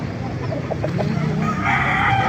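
A Golden Boy Sweater gamefowl rooster at a market crows loudly and close, one drawn-out call over steady crowd noise and other fowl.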